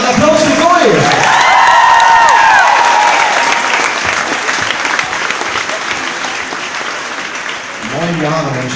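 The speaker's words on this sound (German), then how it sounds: "Nochmal einen Applaus" Applause from the crowd at a concert in Hamburg, a loud, dense and sustained roar of clapping with some cheering, while voices talk and call out over it near the start and end.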